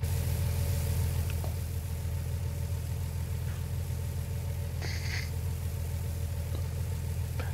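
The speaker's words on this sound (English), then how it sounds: "the sound quality in this is extremely good. Just the tractor sounds and everything else." A tractor engine in Farming Simulator 19 drones steadily at idle or low throttle, a loud continuous low rumble that never lets up, with a few faint clicks on top and no talking.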